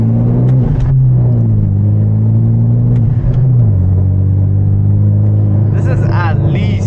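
Manual Hyundai Genesis Coupe with a loud exhaust and turbo, its engine droning low and steady after a downshift on a steep uphill street at night, the pitch shifting between gears while a driver talks over it.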